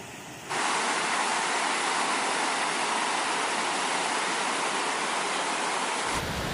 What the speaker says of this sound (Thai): ตอนนี้ก็ถึงน้ำตกแล้วนะคะ ถึงน้ำตกห้วยเขแล้วก็ น้ำก็เยอะเลยตอนนี้